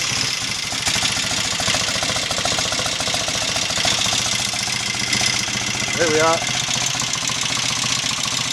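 A Royal Enfield Interceptor MK1 motorcycle engine idles steadily and evenly with a close, thumping beat throughout, and someone speaks briefly over it.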